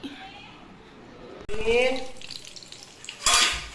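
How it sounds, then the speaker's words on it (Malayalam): Fish coated in masala sizzles in a pan, a soft frying hiss that swells as the fish goes in, with clattering of utensils and someone talking over it. "മീൻ പൊരിക്കാൻ വെച്ച്"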